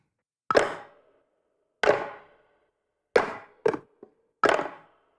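Wooden plank percussion samples, layered and pitched down an octave in a beat, strike five times in an uneven pattern, each a dry, woody knock with a short decay and no other sounds between hits.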